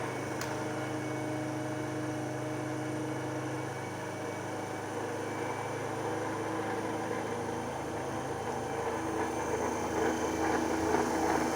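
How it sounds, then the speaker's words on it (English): A prime mover motor in an electrical machines lab runs steadily near its rated speed, a continuous hum with tonal whine and mechanical noise at constant loudness, no talk. "the prime mover is now running very close to the rated RPM"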